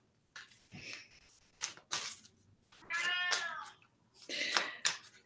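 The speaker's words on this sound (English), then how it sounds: "that's the cat on the other side of the door dying to come in" A house cat meows repeatedly from the other side of a closed door, several drawn-out cries spaced with short pauses, fairly clear and alone.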